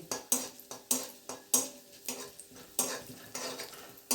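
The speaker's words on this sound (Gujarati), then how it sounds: "1 ચમચ અડદની દાળ અંદર એડ કરીએ। આપણે એને 1 મિનિટ માટે આમ સાંતળી લઈએ।" Spoonful of urad dal sautéing in hot oil on full flame for a potato-and-pea samosa filling, with a steady sizzle broken by repeated, rhythmic scraping stirs of a spoon against the pan, close and moderately loud.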